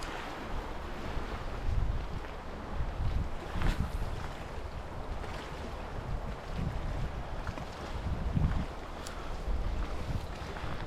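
Wind blows outdoors by a river during spring trout fishing in Oregon, a rough, gusting rush of buffeting noise that swells and fades throughout.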